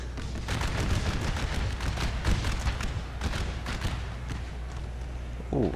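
Cannon and musket fire in an American Civil War mod game battle at Franklin, a continuous rattle of distant volleys and scattered shots punctuated by heavier booms, steady throughout with no talking.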